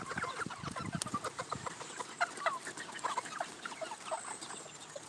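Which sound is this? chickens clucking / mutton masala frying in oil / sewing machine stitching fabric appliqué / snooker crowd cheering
chickens clucking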